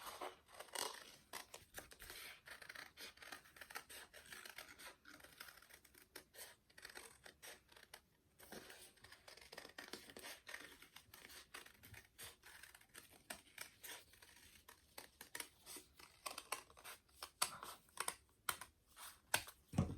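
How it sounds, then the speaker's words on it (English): Scissors snip steadily through paper while a paper heart is cut out, a long series of quiet, close, crisp clicks and rustles in an irregular rhythm. "So here, we're going to cut it out."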